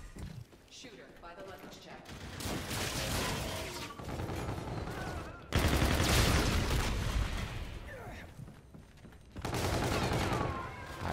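Bursts of rapid gunfire crackle through a busy battle soundscape in the video game Call of Duty: Infinite Warfare, with loud volleys swelling and fading over several seconds while a voice talks over it.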